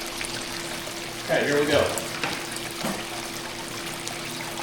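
Water runs steadily through a Gold Strike Micron gold recovery machine with soap added, a continuous splashing trickle with a brief louder pour in the middle, while a voice speaks briefly over it.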